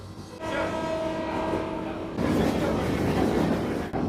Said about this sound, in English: The train stopped here for maybe a minute at most, and now we're already starting up again.